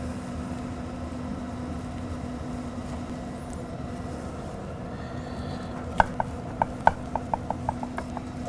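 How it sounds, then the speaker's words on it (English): Smoked baby back ribs are cut into sections with a knife on a board, a quiet background hum followed by a quick run of about ten sharp, evenly spaced chopping thuds near the end. "So we're just gonna cut those in sections, put them in a pan"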